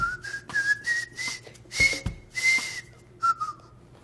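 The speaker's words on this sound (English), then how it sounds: "There's this whistling where you whistle between your teeth." Whistling between the teeth produces a series of short, thin, high-pitched notes that rise and break with airy gaps, close and fairly quiet, with no other sounds around it.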